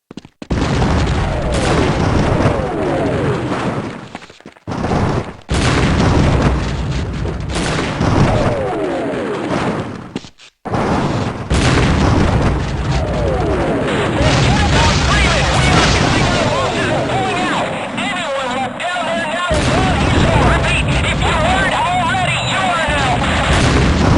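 Airstrike explosions in the Half-Life video game: dense, loud rumbling booms and blasts that roll on almost continuously, with two brief drops to near silence before the barrage resumes.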